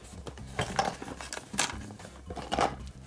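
Plastic parts of a Play-Doh Disney Pixar Cars 2 playset being folded up, giving several sharp clattering clicks and knocks in uneven bursts, close and fairly loud.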